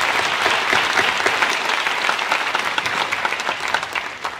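Loud, dense applause from the audience at a National Honor Society induction ceremony, a continuous crowd of clapping hands that holds steady and then thins slightly toward the end.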